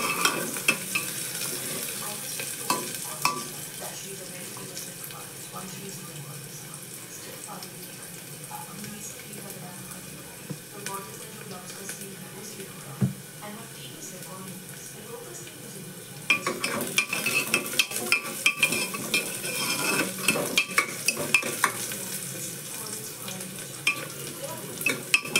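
Onion and tomato sizzle steadily in a pan over heat, with repeated scraping and clinking of a spoon stirring against metal; the frying grows brighter and busier partway through, and a voice speaks over it at times.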